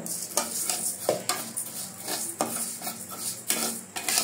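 A small amount of rice dry-fries in a pan, with repeated scraping and rattling strokes of a spatula against metal over a faint sizzle. The strokes come in an uneven rhythm and sound close. No talking.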